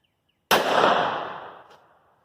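A single .38 Special revolver shot firing PPU 158-grain standard-pressure semi-wadcutter hollow point lead bullets, a sharp, loud crack out of silence followed by a decaying ring and a faint click near the end.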